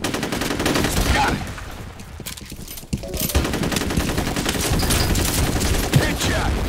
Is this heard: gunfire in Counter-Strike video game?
yes